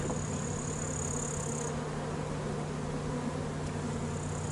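Honeybees swarm around a hive of some 85,000 bees in the Drôme, making a steady, low, continuous drone with a constant hum and no voices.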